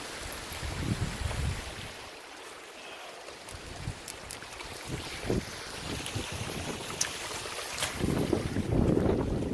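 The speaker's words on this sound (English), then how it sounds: "If the wind isn't too loud, it is breezy today." Steady breeze blowing outdoors during a backcountry backpacking trip, a continuous broadband rush with gusts that swell toward the end, buffeting the microphone, no talking.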